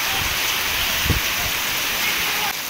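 Heavy wind-driven rain makes a loud, continuous broadband rush that holds steady throughout, with a few faint low thuds beneath it.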